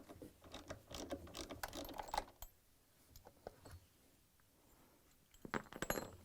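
A ratchet wrench clicks as it removes bolts from a Frigidaire washer during a vane replacement, giving quick bursts of close, fairly quiet ratcheting with a pause in the middle.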